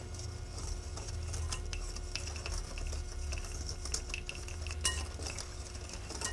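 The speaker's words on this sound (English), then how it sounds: "And then I can just mix up with a whisk." Cornstarch, flour and salt are whisked together in a bowl, a quick continuous run of metallic clicks and scratches from the whisk against the bowl over a low background hum, close and moderately quiet, with no talking.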